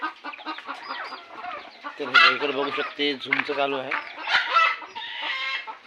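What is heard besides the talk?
chickens clucking, newly bought hens on a farm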